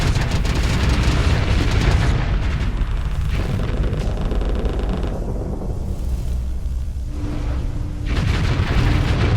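A torpedo strikes a ship in the space combat game Starsector with heavy, booming explosions. Dense rumbling blasts fill the whole stretch, dipping briefly in the middle before swelling again.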